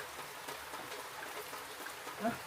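Rain falls outdoors during a fishing trip where hooks baited with frogs are being set, making a steady, soft, even hiss that lasts throughout with no distinct drops standing out.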